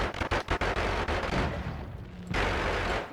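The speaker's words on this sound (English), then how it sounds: "Why are they exploding?" Wand spells in Noita set off a rapid series of loud explosive pops and bursts, with a short lull before another sustained crackling blast.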